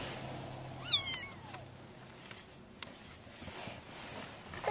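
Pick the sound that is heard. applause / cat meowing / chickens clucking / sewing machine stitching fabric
cat meowing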